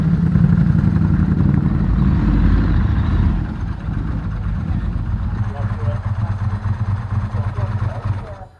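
A motorcycle on road race tyres rumbles over cobbled streets in St Ives with a loud, steady engine drone and rattly clatter. Its tone shifts partway through, and it drops away at the end.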